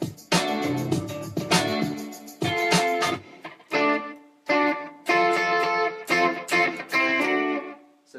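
Bright electric guitar riff drenched in slapback delay and spring reverb for a surf tone, played as short chiming phrases with gaps between them, close and loud with no talking.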